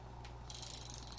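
The drag of a Piscifun Carbon X 1000 ice fishing reel gives a quick run of about fifteen crisp, evenly spaced ratchet clicks, close and clear after a brief quiet moment.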